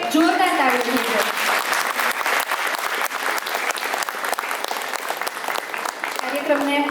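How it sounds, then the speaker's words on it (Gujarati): Enthusiastic applause from an audience at a Diwali cultural show in a community hall, honouring a children's dance performance; steady dense clapping fills the whole stretch, with a voice speaking over it briefly at the start and end. "ફરી એકવાર આ બાળકો માટે જોરદાર તાળીઓ થઈ છે"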